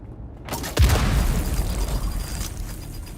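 Booby trap explosion in the video game Dune: Awakening, a sudden loud boom followed by a long rumbling, crackling decay with no voices.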